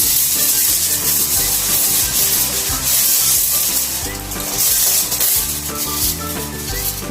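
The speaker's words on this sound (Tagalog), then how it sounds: "Tapos, takpan na natin siya ng aluminum foil." Aluminum foil crinkles and rustles close up as it is pressed over a homemade ice cream container, a continuous loud scratchy crackle with no talking.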